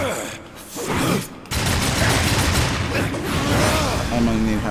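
Bombs exploding on contact in the video game Darksiders 2, a dense, loud stretch of booming blasts and crackling bursts packed together with game noise and a voice talking over it.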